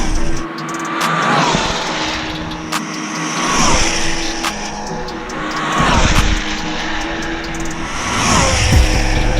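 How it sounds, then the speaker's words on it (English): An Arrma Kraton 8S RC car overvolted on 15S with an MGM ESC and Castle 2028 800 kV motor screams past in repeated loud high-pitched electric whines, rising and falling as it makes passes outdoors. "Arrma Kraton 8S, running it on 15S with the MGM ESC and Castle 2028, 800 kV"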